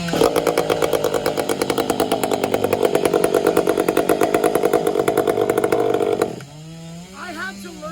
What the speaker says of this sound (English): This is a fuel injected saw, you probably know that.